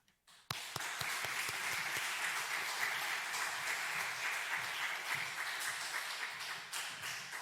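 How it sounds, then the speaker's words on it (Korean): A church congregation at a Wednesday worship service applauds warmly, a dense and sustained round of clapping that starts with a sharp onset and holds steady throughout. "우리 목사님 모실 때 뜨거운 박수로 환영하도록 하겠습니다"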